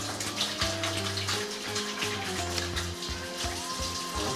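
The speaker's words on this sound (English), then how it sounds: "let me wash my hands" Steady tap water running into a kitchen sink while hands are washed before preparing a roast, a continuous close splashing stream with small shifts as the hands move through it, no voices.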